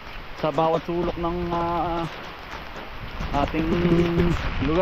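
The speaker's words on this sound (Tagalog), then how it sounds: "Grabe mga utol yung ulan, lakas." Heavy typhoon rain hisses steadily and densely throughout, with someone talking over it.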